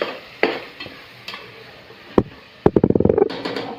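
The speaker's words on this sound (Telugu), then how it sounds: "మంచిగా వేసుకొని మీడియంలో వేసుకొని కలుపుకోండి" Gongura chicken is stirred in a frying pan, a spoon scraping and clacking against the metal in scattered strokes, then a quick run of rapid stirs over a low, steady sizzle.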